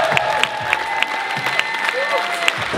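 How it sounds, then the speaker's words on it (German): Audience applause for Benjamin Hollmann at the Swiss Coffee Festival 2019, a crowd wash punctuated by sharp individual claps at a steady rhythm, with voices talking underneath. "Also einen großen Applaus auf Benjamin Hollmann."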